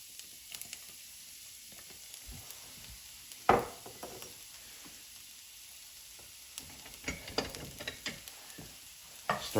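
Garlic sweats in rendered duck fat, a quiet soft sizzle under occasional utensil taps and a sharper clatter midway, close but faint.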